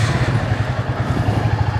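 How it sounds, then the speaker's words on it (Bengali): A Royal Enfield motorcycle engine runs at idle, a close, steady low thumping pulse with light mechanical clatter and no talk. "বাইক স্টার্ট দিলাম"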